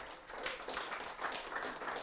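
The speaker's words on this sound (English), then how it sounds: "Let's give a big round of applause for Dr. Tim Cernak." An audience at a lecture applauds, a brief dense patter of many hands clapping at moderate distance, steady throughout without talk.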